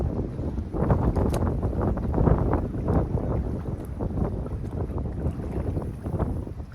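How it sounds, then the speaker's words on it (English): Wind gusting by open water at a bank where bass fishing is under way, a steady rushing roar buffeting the microphone and swelling slightly, with nothing else standing out. "you can really see and start to hear the wind ramp up here"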